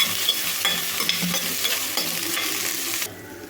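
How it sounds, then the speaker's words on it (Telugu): Onion and curry leaves sizzle in hot oil with a steady crackle, a spoon stirring through them, close up until the noise drops near the end. "ఉల్లిపాయ కొంచెం కరివేపాకులు అయితే బాగా వేయించుకోవాలండి"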